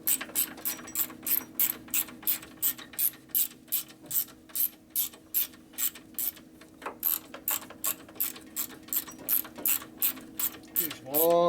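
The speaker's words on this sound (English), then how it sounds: "Let me get this damn socket in here" Rapid, evenly paced clicking of a socket ratchet turning bolts on the twin cam motor of a 2011 Harley-Davidson Road Glide, close and crisp over a low steady hum, ending in a brief squeak.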